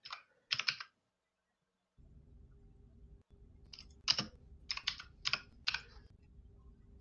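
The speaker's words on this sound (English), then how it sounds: "Yes, that is a very clicky mechanical keyboard." Clicky mechanical keyboard keys being typed in short bursts of sharp, close clicks, with a low steady hum starting partway through and continuing beneath the later keystrokes.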